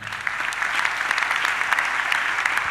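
Sustained applause from a church congregation, many hands clapping in a dense continuous wash that holds steady for the whole stretch.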